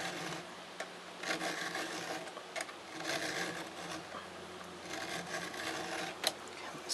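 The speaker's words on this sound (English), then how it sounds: "You can see all the shavings coming off on the file." A hand file sharpens a chainsaw cutter with quiet, repeated rasping strokes, a steady scraping rhythm of metal on metal that continues throughout with no talking.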